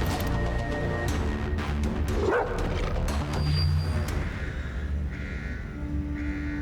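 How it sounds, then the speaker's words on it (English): Barking from Crypto the dog, a character in the Titans series, rising briefly over a dense, busy soundtrack of music and effects, the yaps fairly close and intermittent rather than steady. "He rescues Crypto the dog, who honestly is the smartest character in the entire show"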